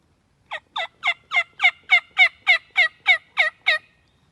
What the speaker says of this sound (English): That was the mouthiest hen I've ever heard